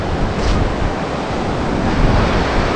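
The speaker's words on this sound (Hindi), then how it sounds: "बहुत हवा देता है क्योंकि पूरा ओपन है" Strong wind blows across the wide-open Mahanadi river barrage (Mundali), a loud, steady rush with gusty surges and microphone buffeting, no voices.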